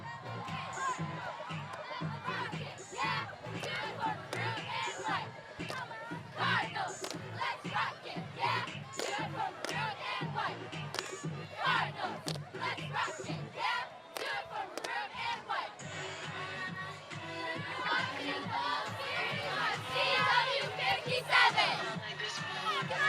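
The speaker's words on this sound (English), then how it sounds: "We have the cheer team. They're going to send us off into the second half and cheer on those Cardinals." At a high school football halftime show for the Cardinals, a cheer team chants and shouts in unison, loud and rhythmic, with crowd noise around them throughout.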